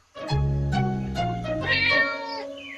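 A cartoon cat meows in a series of loud, close, tonal cries that rise and fall over a few seconds, with no talking.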